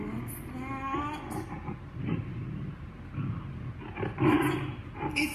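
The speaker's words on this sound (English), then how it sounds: "It's a tiger." A tiger roars, a loud growling call with rising tonal strains that swells and fades twice across the stretch, alone with no talk over it.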